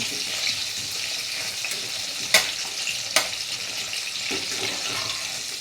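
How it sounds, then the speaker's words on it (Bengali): Beetroot pieces frying in a pan, a steady close hiss of sizzling oil with two sharp crackling bursts midway, fairly loud and even, no speech. "বিটের পিসগুলো একটু ভাজতে দিয়েছি"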